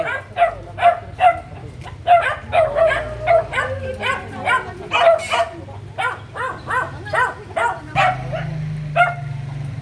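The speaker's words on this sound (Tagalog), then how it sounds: "The owner is feeding his dog, his pet dog" A pet dog at a mobile refugee center in Quezon City barks and yips in repeated short bursts while being fed by its owner, fairly close, with a low hum and other sounds underneath.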